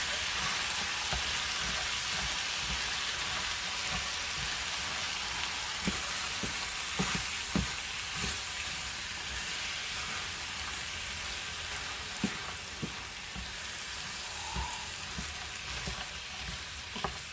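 Frozen vegetables cook in a pan with a steady hiss and sizzle while a utensil stirs them little by little, giving soft scrapes and clicks over the continuous frying noise.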